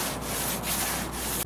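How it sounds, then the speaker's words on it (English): Light sanding along a wooden luff groove track, a steady close rasp of abrasive on wood running continuously for over a second before stopping abruptly. "I smoothen the track with some light sanding."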